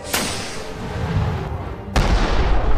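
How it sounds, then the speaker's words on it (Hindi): Rocket explosions in a chase, booming blasts with sharp onsets near the start and again just before the end, separated by a rumbling roar that carries between them, loud and close. "जग्गी मेहुल पे रॉकेट छोड़ने लगता है।"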